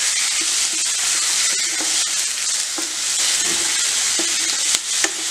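Onion, capsicum and tomato sizzle loudly in a hot pan while being stirred, a steady close frying hiss broken by occasional scrapes of the spoon, with no talking.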